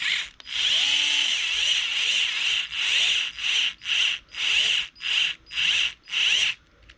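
A power tool gun set to low torque drives 17mm hex hardware on an Arrma Big Rock 223S RC truck, first with a sustained whirring run and then a series of short, evenly spaced bursts, loud and close.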